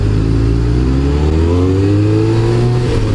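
Motorcycle engine while riding on the road, a loud continuous droning rumble that rises gradually in pitch as it accelerates through about three seconds, with wind noise throughout.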